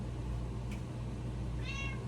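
A domestic cat gives a short, faint meow near the end, over a low steady hum, with a tiny click just before it and no one talking.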